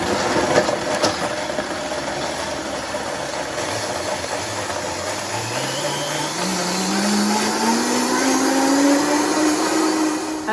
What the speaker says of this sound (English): Okay, everything is in the blender.